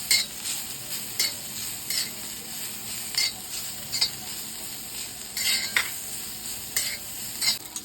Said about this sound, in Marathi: आणि त्यानंतर आपण जो उभा चिरलेला कांदा आहे तो सुद्धा मी त्यामध्ये घालून घेते हे छान असं मस्त मिक्स करून घ्यायचं आहे